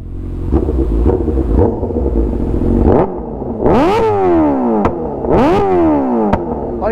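Honda Hornet motorcycle revving hard with a tuned exhaust: a rumbling idle, then three sharp rising revs that fall away with crackling pops and bangs, loud and close with no talk.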